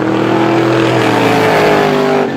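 350 Supermodified race cars racing at a speedway heat, their loud sustained engine roar close and droning at a steady pitch that dips slightly as they pass.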